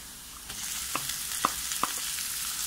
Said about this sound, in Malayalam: അതിലേക്ക് ചെറുതായിട്ട് അരിഞ്ഞ സവാള ചേർത്ത് കൊടുക്കാം